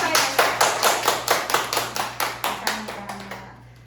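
A crowd claps together in a steady, fairly rhythmic beat during a Sunday church service, loud at first and then thinning and fading out after a few seconds.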